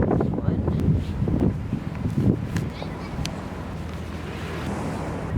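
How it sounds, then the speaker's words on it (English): Gusty wind buffets the microphone in low rumbling bursts, loudest early on, with a few faint clicks and knocks over the steady blowing. "it's really windy"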